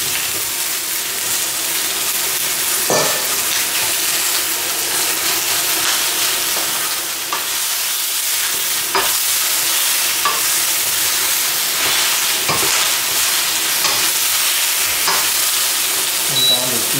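Oxtail and lamb fry in a pot with a loud, steady sizzle, broken by repeated scraping stirs that come at an irregular pace, close and continuous throughout.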